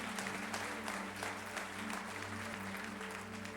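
A church congregation applauding during a Portuguese-language sermon, a dense, continuous patter of clapping from many hands filling the room, with a steady low musical drone beneath and no voices standing out.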